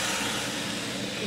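Fish curry made with bata fish, ridge gourd and radhuni spice paste is poured into a hot pan, giving a steady, loud sizzling hiss that stays even throughout with no pauses.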